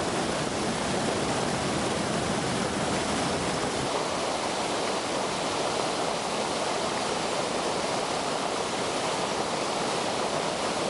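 Rushing stream water after rain in a Taiwan river where masses of Varicorhinus alticorpus fish swim and leap upstream; a steady, dense, close roar of flowing water runs unbroken throughout, with no voices.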